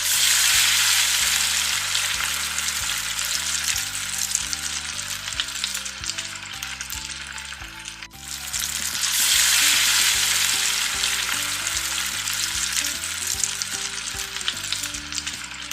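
Chopped onions hitting hot mustard oil already frying with cardamom, cinnamon, cloves and cumin, a loud continuous sizzle that dips briefly as they are stirred, then surges again, with faint background music and no talking.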